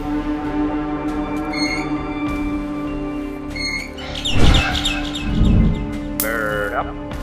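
A bird chirps in the game Garten of Banban 6: a few brief, high twittering bursts spread over a low steady hum, with soft thuds and rustles in between.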